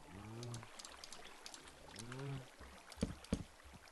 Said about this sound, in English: Let's put some water down, just to double check that, yes, that does indeed flow as intended